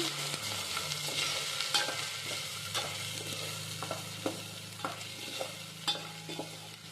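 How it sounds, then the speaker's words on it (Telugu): Garam masala is stirred into an egg biryani mixture sizzling in a pan, a steady low fry hiss with repeated light spatula taps and scrapes, close and quiet, no talking. "ఇప్పుడు దీంట్లోకి two spoons garam masala powder వేసుకున్నాము ఇలా వేసుకొని బాగా కలబెట్టుకోవాలి"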